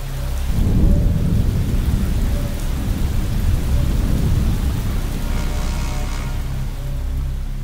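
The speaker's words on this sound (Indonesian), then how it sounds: "cuaca mendadak hujan" Heavy rain pours steadily throughout, with deep rumbles of thunder rolling in and out beneath the downpour.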